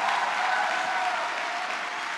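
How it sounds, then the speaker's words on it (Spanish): Continuous applause from a large conference audience at Transformados 2019, an even, dense wash of clapping held at full strength for the whole stretch. "si vas a aplaudir, tienes que hacerlo con más ganas"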